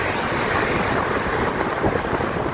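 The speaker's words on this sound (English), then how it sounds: "It's pretty windy." Strong wind buffets the microphone in a steady, broadband roar on a mini truck fire truck at highway speed, with a rushing, surf-like wash throughout and no voices.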